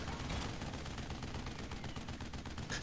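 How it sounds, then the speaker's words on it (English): A Seeker Gatling unit in a real-time strategy battle game fires rapid continuous bursts of gunfire, dense and steady for a few seconds. "Seeker Gatling now to try to control the movement of Arcanos now."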